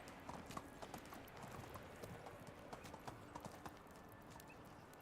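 Horse hooves clip-clop in a steady riding rhythm in the medieval game Medieval Dynasty, a quiet run of even, repeated knocks over a soft ambient bed.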